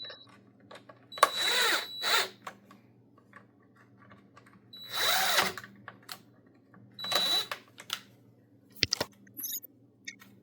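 Short bursts of a power tool driving screws into a Husqvarna string trimmer during a recall repair, about three whirring runs, close up and separated by quiet pauses and small clicks, with no talking.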